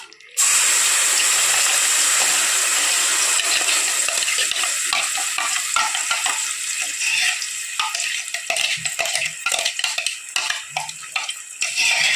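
Ground spice paste for a fish curry hits hot oil in a pan, setting off a loud, steady sizzle that continues for about twelve seconds, with scattered crackles and faint stirring clatter.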